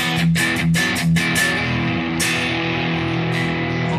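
An electric guitar runs through a BIAS Desktop amp-match tone: a few rhythmic distorted chord hits, then one long ringing chord that sustains and slowly decays, loud with no talking.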